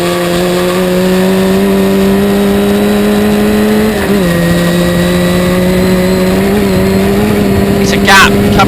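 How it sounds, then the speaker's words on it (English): Heard from onboard, a Historic Formula Ford race car at Croft holds a loud, steady engine drone with a brief dip midway, as a commentator talks over it throughout. "we can ride aboard with Callum Grant that continues to lead this race at Croft"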